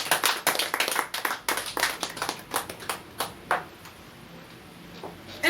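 A church congregation clapping during a French worship teaching, a run of sharp hand claps, fairly close and loud at first, then thinning out and growing sparser.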